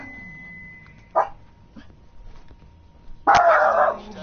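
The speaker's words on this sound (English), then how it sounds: "that's my dogs again." Dogs barking in a home during a live game broadcast; a couple of short yips, then a louder, close burst of barking near the end over faint game sound.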